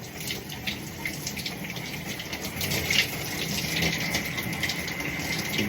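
Steady broadband rush of a shower running continuously, close and fairly even in level, with slight surges partway through and no speech.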